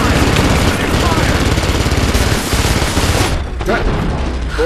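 Sustained bursts of automatic gunfire and scattered booms from a video game firefight, loud and dense throughout, with voices shouting over the shooting before it thins out near the end.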